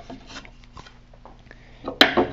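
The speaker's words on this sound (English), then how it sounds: "allows you to now plane the end grain of that board" A hand plane shaves the end grain of a wooden board: faint scraping strokes, then one loud, rough rasping pass near the end.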